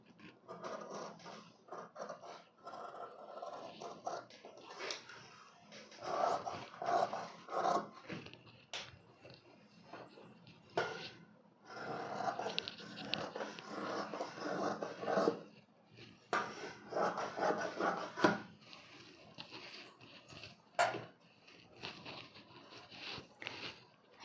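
Scissors snip through blouse fabric in steady bursts of cutting and rustling cloth on a tailoring surface, close and moderately loud, with short pauses between runs of cuts as the back and front neck pieces are shaped.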